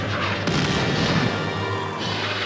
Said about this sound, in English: The roar of gunfire replaces the talk of statesmen, and the curtain of war falls over Europe